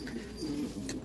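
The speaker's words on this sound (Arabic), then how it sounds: "طير زاجل" A homing pigeon cooing close by, a low, soft throaty coo repeated in a short rolling phrase against quiet background.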